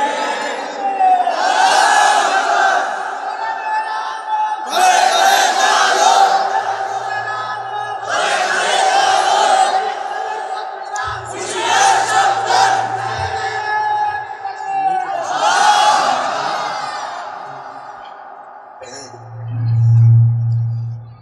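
A large crowd at a religious sermon gathering chants slogans in loud, rhythmic bursts, roughly four long waves of massed voices separated by short gaps, close and powerful.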